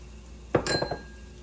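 A utensil clinks and scrapes briefly against a pot while smoked paprika is stirred into a large batch of Cajun mac and cheese, a short close burst of metallic contact and stirring.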